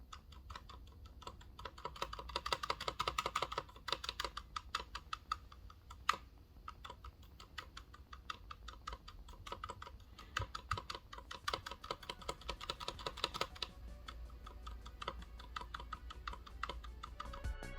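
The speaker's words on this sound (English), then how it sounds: "here's the sound of the pre-loop stabs" Steady typing on a quiet mechanical keyboard with Kailh Silent Pink switches and GMK 8008 keycaps, a dense run of soft, muted clacks close by with short pauses, and no one talking.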